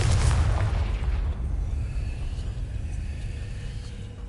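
A Confringo fire spell in Hogwarts Legacy bursts with a heavy, booming blast that rumbles loudly at first and then decays into a lingering low roar.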